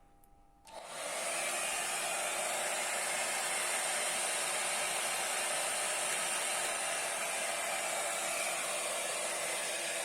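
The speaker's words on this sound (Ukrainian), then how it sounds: "фен." A hair dryer running on an inverter UPS powered by a battery switches on with a click and runs as a loud, steady whooshing hum that continues without change.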